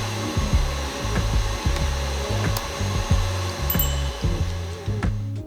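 An electric whisk whips cream for no-churn ice cream, a steady droning motor whir with a rhythmic rattling scrape of the beaters against the bowl, close and continuous, fading out at the end.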